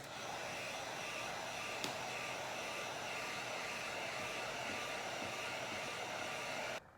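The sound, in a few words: heat gun smoothing epoxy on a spinning tumbler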